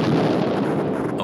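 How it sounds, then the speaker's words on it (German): A tank explodes aboard a spacecraft on its way to the Moon, heard as a brief, loud, deep rumbling blast. "Auf dem Weg zum Mond explodiert ein Tank."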